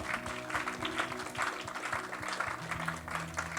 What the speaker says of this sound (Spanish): Dar un aplauso grande, Rey de Reyes, Señor de Señores